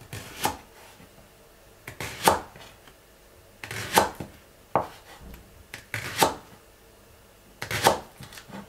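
A knife chops through a big spring onion on a cutting board in about seven distinct, evenly spaced strokes, each a crisp close crunch with quiet pauses between.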